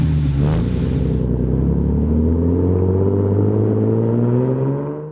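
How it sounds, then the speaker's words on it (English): A small straight-four engine of a tiny roadster sports car, such as an MG Midget or Austin-Healey Sprite, roars steadily up close, a throaty, buzzing drone that holds strong before winding down at the end. "this tiny, kind of cute version of that straight 4 roar"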